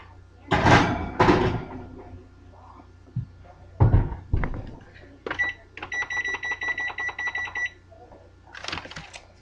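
An oven door thumps open and shut twice in a home kitchen as salmon goes in, followed by scattered clunks, a beeping oven timer, and more knocks.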